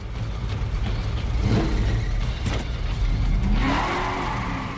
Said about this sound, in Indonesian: John pergi menggunakan mobil kesayangannya